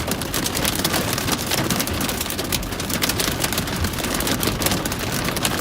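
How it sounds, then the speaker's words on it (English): Small pea-sized hail pours down steadily in a Colorado Springs storm, a dense, continuous patter and hiss of countless tiny impacts with no voices. "It's very small hail, but a lot of it coming down"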